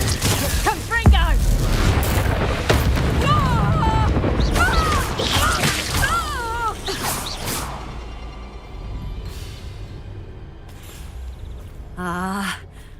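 Spell blasts and booming impacts from Hogwarts Legacy, with gasps and voices mixed in, dense and loud at first before thinning out to quieter effects toward the end.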